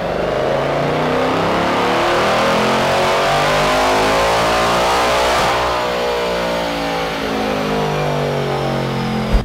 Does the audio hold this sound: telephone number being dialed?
no